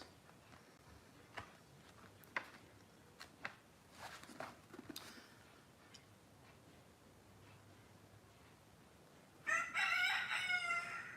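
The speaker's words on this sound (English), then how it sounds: "That's a chicken if you can hear it." A rooster crows loudly near the end, a harsh cock-a-doodle-doo lasting about two seconds after scattered faint ticks and rustles in a quiet room.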